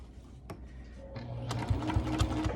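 A sewing machine back-stitches along the bottom edge of a fabric face mask 1/8 inch from the edge, a few soft clicks first, then a close, steady whirring drone with a rapid rhythmic pulse.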